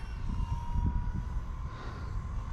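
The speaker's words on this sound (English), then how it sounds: "Kind of a small helicopter too." A small Blade 230s RC helicopter flies fairly close by, giving a steady, moderately faint rotor and motor hum with a thin whining tone over rumbling low noise, and no voices.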